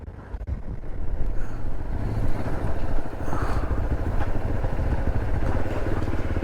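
A motorcycle engine idles and rumbles close by on a chilly Western Ghats ride, steady low throbbing with wind buffeting the microphone, as the bike is turned around.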